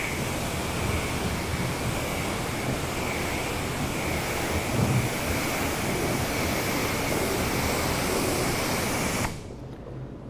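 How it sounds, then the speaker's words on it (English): Running water rinsing a surface during car detailing, a steady, loud hiss of spray that holds nearly unchanged for several seconds before dropping away at the end. "So let's go ahead and rinse this off."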